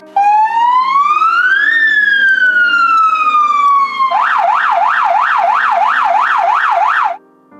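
An ambulance siren plays during a school stage play by fourth-grade students. A loud, clean electronic wail rises and falls once, then switches to a rapid repeated warble for a few seconds before cutting off.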